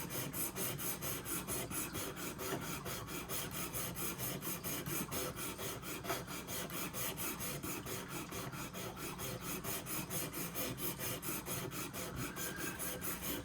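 Steady rasping strokes of a traditional pocket knife blade drawn over the abrasive of a Worksharp Precision Pro sharpener, a continuous close scraping texture with a fine repetitive pulse and no talking.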